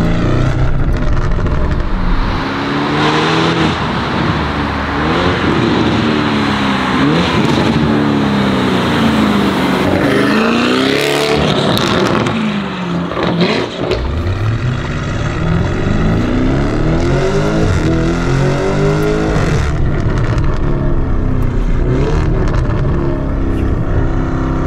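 A Lamborghini Urus fitted with a Novitec exhaust revs hard and loud, its engine note climbing and falling repeatedly through sustained rises, with crackling pops on the overrun.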